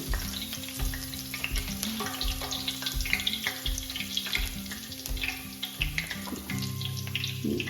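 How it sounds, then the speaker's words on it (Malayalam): Curry leaves crackling in hot oil in a pan while chicken manavatti is cooked, a loud, continuous sizzle with rhythmic scraping and stirring strokes and some watery clatter, and no voices. "എണ്ണ ചൂടായിട്ട് കുറച്ച് കരിവേപ്പിൻ്റെ ഇല ഇടണം"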